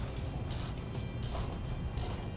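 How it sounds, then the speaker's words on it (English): A wrench ratchets in three short bursts while tightening the steering stabilizer bushings on a Roadmaster Reflex RV setup, over a low, steady background rumble. "We can now tighten down our stabilizer bushings. You'll use a 9/16" wrench and an adjustable crescent wrench to hold the shaft."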